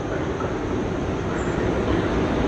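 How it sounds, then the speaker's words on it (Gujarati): A train rolls into Ankleshwar railway station on Western Railway lines, a loud, steady rumble of wheels and carriages filling the platform without pause. "હે, આવી રહી ટ્રેન."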